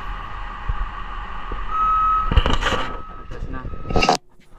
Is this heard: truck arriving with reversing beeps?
yes